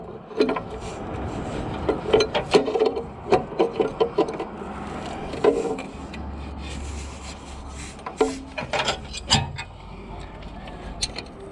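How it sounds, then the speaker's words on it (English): A tool scrapes and pries at a timing chain tensioner seated with an O-ring in a Toyota MR2 Spyder engine, giving irregular metallic scrapes, clicks and rubbing close by, with quiet background hum and no speech. "pry it out a little bit, because there's obviously an O-ring in here"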